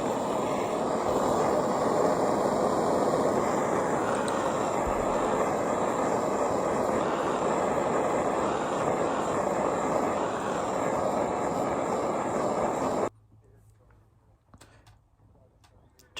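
A boat's bilge pump runs steadily with a loud, constant motor hum and drone for about thirteen seconds, then cuts off abruptly, leaving near silence with a few faint knocks.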